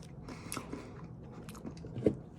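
Crunchy salty chips are bitten and chewed close to the mic for ASMR, soft crisp crunches at a slow pace with one sharper bite near the end, quiet and without talking.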